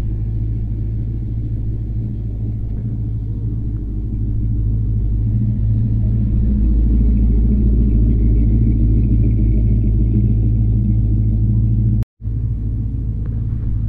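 A 427 V8 car with dual quads and drag radials idling with a deep, loud, steady rumble that swells slightly midway and holds for about fourteen seconds, broken by a brief dropout near the end.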